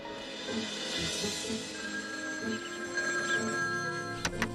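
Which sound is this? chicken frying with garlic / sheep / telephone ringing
telephone ringing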